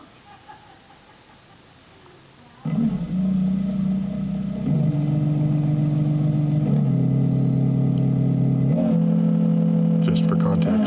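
MaxxFan roof vent fan motor ramping up from standstill, starting with a sudden jump into a steady hum, then stepping up through several higher-pitched, louder speed stages, heard from close inside a van at head height.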